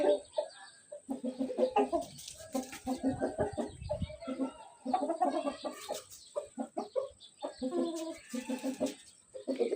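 Free-roaming chickens cluck and chatter in irregular bursts, several birds close by with overlapping calls and brief quiet gaps.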